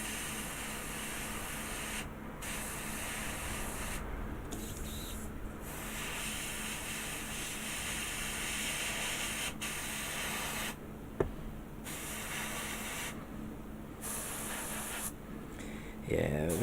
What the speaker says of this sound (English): Yeah, I think this airbrush is knackered.